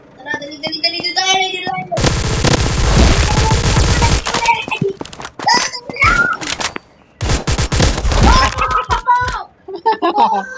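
Rapid automatic gunfire in the video game Polywar crackles in long, loud sustained bursts, broken by short gaps, with players' voices talking over and between the shooting.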